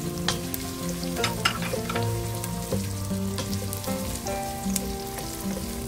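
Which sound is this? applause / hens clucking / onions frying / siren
onions frying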